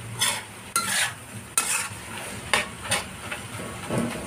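Pork and kidney beans adobo sizzles in a pan as a utensil stirs it in repeated scraping strokes, each pass bringing a burst of hiss over the steady frying.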